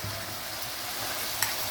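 Rice frying in a pan while being stirred: a steady, close sizzle with soft scraping throughout and a small clink near the end.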